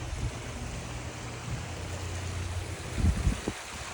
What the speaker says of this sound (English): Waterfall going.